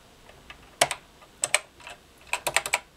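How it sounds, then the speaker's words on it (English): Keys clacking on a BBC Micro 8-bit computer keyboard, close and crisp, in a short burst of separate presses followed by a quicker cluster of keystrokes. "I'm going to type"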